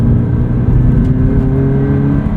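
A Subaru BRZ's engine drones steadily and loudly from inside the car as it accelerates, a sustained low hum with no speech.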